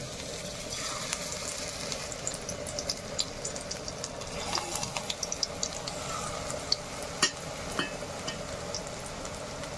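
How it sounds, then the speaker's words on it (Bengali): Small spinach pakora fritters frying in hot oil, a continuous soft sizzle with scattered sharp pops and crackles, fairly close and steady with no talking. "এবার আমি ছোট ছোট করে বড়া ভেজে নেব"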